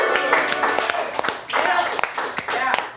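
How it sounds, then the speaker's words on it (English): Applause and scattered clapping from a crowd at the Alcove International Tavern, a dense, steady wash of hands with sharper individual claps breaking through, while voices murmur underneath. "Big round of applause."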